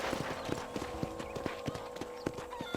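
A horse's hooves clop in a brisk, regular rhythm as it is ridden in the video game Red Dead Redemption, close and distinct over a light ambient bed, with a faint whinny-like tone drifting in.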